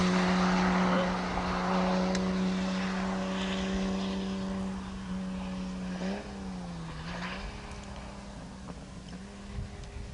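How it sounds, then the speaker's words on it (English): A race car at a Bridgehampton high-performance driving event drones loudly and steadily, then drops in pitch as it passes around the midpoint, with faint crackling pops fading away afterward. "That's got to be Mac Howard popping off for us as he went by"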